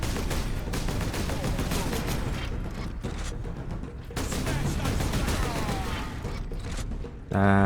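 Enemy gunfire in the video game Space Marine, dense sustained shooting and mechanical clatter filling the whole stretch with barely a pause, loud and busy throughout, ending in a short burst of heavier impacts.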